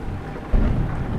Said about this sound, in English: Realistic rain.